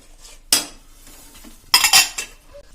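Spoon or spatula scraping and clinking in a pan while sesame chikki mixture is stirred quickly, two short bursts of metallic clatter with quiet gaps between.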